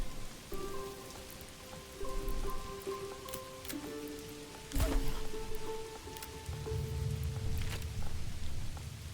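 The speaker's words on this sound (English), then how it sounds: "It's raining at least." Rain in the medieval city-building game Manor Lords: a steady patter of drops on surfaces with a brief louder splash midway, accompanied by soft tonal game music, with no voices.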